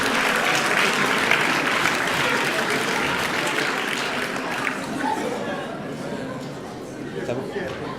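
An audience applauds French champions at an awards ceremony. The clapping starts loud and dense, then gradually thins and fades, and chatter and voices continue underneath as it dies down.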